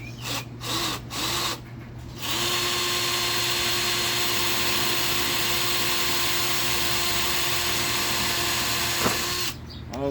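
Power drill boring screw holes with a 1/8 inch bit, a steady sustained whine running for about seven seconds after a few short bursts, fairly quiet and close, with no voices over it.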